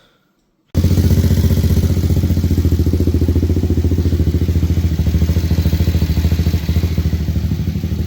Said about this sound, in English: I've actually wired it into the drift trike to see if the drift trike runs